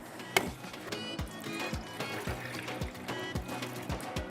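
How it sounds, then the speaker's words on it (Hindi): Water pours steadily into a pan for chicken and potato pulao, a continuous trickling splash with faint rhythmic knocks beneath it. "इसके अंदर आपने डालना है तकरीबन 4 गिलास पानी"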